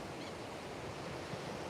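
Ocean waves roll in at an oceanfront beach, a soft, steady wash of surf with no break in it, quiet and unbroken throughout.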